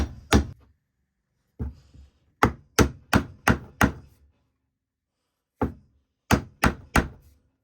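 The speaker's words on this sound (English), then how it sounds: "use a hammer to drive it home." A hammer drives a wooden mallet handle into its wooden head in bursts of solid thunks, first two, then a run of five, then four more after a pause, close by.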